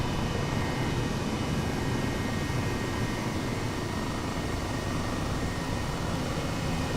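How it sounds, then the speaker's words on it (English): A helicopter flies over the Okavango Delta in Africa in the video game Microsoft Flight Simulator, giving a steady, loud, unbroken engine and rotor drone throughout. "That helicopter is loud."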